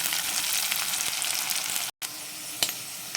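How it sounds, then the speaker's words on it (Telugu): Ginger garlic paste frying over high flame for prawn fried rice, a steady loud sizzle with stirring scrapes in the pan and a brief dropout midway. "ఇది హై ఫ్లేమ్లోనే అంతా కుక్ చేయాలి అల్లం వెల్లుల్లి పేస్ట్ వేసాం కాబట్టి ఖచ్చితంగా అడుగుంటుంది సో కదుపుకుంటూ ఉండాలి"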